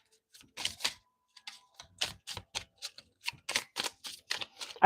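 A deck of cards is shuffled by hand, giving a series of quick papery riffles and taps in uneven bursts, close to the microphone and fairly quiet, with no voices.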